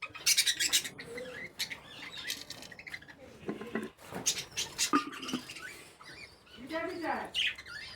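Small birds chirp and twitter nearby in a breeding cage in bright bursts, with soft scuffling and fluttering between calls and a quiet voice speaking briefly.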